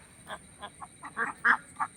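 Native Kuttanad ducks in Kerala swimming in water and quacking, a run of short, fairly quiet calls from close by that grows a little stronger toward the end, with no talk.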